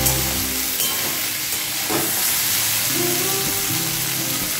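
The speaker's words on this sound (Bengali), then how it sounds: "একটু লাল করে ভেজে নেব" Potatoes and onions frying in oil with three slit green chillies for aloo posto, a continuous bright sizzle close by with a soft scrape of stirring partway through.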